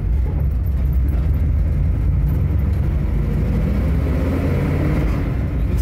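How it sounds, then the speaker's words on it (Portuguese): A Ford Maverick GT V8 drones steadily from inside the car while driving, a continuous low engine rumble and road noise at moderate level with no break. "Esse ronco do V8 não sai."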